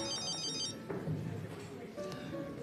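A telephone rings quietly in a German police-station office, a short electronic ring heard briefly beneath people talking.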